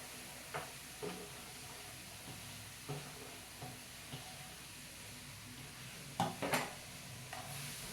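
Chopped taro stems and onions frying in a pan, with a soft steady sizzle under a few scattered scrapes and clinks of stirring, louder clatter near the end, no talking.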